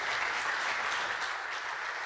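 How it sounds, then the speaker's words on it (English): A conference audience applauds as speaker Stewart Gleadow is welcomed on stage, steady dense clapping filling the room evenly from start to finish. "Let's give him a round of applause"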